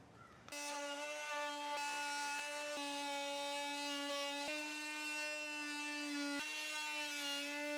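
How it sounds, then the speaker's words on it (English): An oscillating multi-tool cuts through a wooden roof rafter, a loud, steady buzzing drone with strong tonal whine, broken by a few brief catches as the blade bites into the wood. "let me go get my PPE and my multi-tool, and we can cut this rafter"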